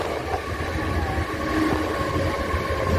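A Mumbai local train runs between CSMT and Kurla, with a steady loud interior rumble and low rolling drone throughout, a faint tonal whine above it, and no talking.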